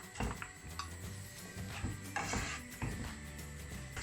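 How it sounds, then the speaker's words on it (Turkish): Dry onions frying in a few spoonfuls of oil in a pot, a soft sizzle under repeated close clinks and scrapes of a utensil stirring against the metal. "Ve üzerine kuru soğanımı ekleyip kavuruyorum."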